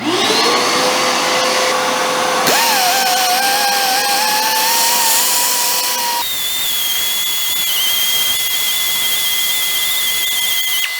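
A flap wheel on a grinder works down a steel frame mount on a Yamaha YZ500 two-stroke build, a loud, steady high-pitched whine whose pitch shifts as the tool loads and unloads against the metal.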